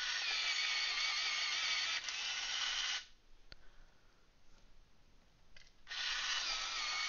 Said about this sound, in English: I'm going to put them through the sharpener.